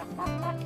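A large chicken gives a brief, low cluck close by, a single short throaty call.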